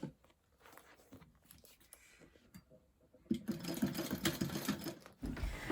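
A sewing machine basting a zipper onto a bag starts after a few quiet seconds of faint handling, then runs in a rapid, steady stitching rattle close by until near the end.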